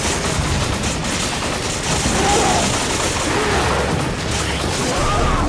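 Sustained bursts of rapid gunfire in Resident Evil 5 rattle on without pause, loud and dense, with booms mixed into the barrage.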